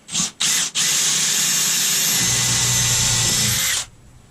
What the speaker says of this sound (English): then we'll re-drill our next one